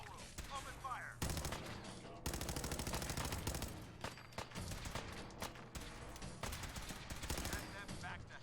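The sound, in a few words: gunfire in Fallout 4 video game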